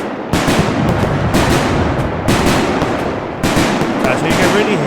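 A firework cake in a fireworks video game fires repeated crackling bursts and booms in a few dense volleys, loud and close, with short gaps between them.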